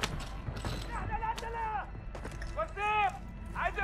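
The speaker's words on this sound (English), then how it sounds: "Taking enemy fire!" Gunfire from enemies in the video game Call of Duty DMZ: several sharp bursts of shots that stand out, mixed in with voices and game effects.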